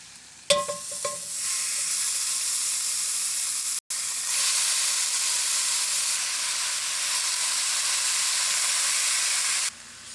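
Meat browns in a hot pan for chili, giving a loud, steady sizzle that starts abruptly, breaks off for an instant midway, then hisses on evenly before cutting off near the end.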